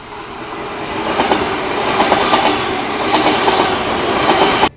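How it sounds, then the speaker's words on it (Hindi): A Delhi Metro train rumbles and clatters loudly along the rails as it arrives fast at the platform, its wheels clacking steadily, then the sound cuts off abruptly. "एक मेट्रो बड़ी तेजी से आवाज़ करते हुए बिना कुछ देखे प्लेटफॉर्म पे आई।"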